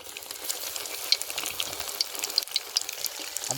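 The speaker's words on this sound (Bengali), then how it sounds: "হ্যাঁ তেলটা বেশ ভালো গরম হয়ে গেছে" Egg and onion fritters fry in hot oil, a steady close sizzle with occasional sharper pops and crackles, no voices.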